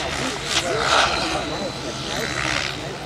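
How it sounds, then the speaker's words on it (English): A model aircraft engine drones through aerobatic manoeuvres at an outdoor air show. The buzzing engine rises and falls at a distance while an announcer talks over it. "As you can see, the aircraft, although it's pirouetting and turning in all kinds, this is an aileron tip-top."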